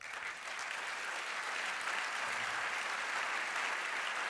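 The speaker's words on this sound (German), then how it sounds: "Applaus" A lecture audience in Berlin breaks into sustained applause, dense even clapping from a large crowd that stays steady and full for the whole stretch with no speech over it.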